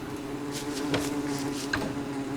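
Bees buzzing in the video game Don't Starve, a steady close drone with a few louder passes swelling over it, alone without talk.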